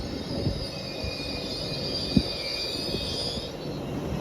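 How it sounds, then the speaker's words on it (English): Trans-Pennine Express service from Edinburgh Waverley to Carlisle arriving at Haymarket station, a steady rolling rumble with faint high wheel squeal and one brief clank, heard at moderate distance with no talk. "arriving in over here is the 1617 Trans-Pennine Express service from Edinburgh Waverley to Carlisle"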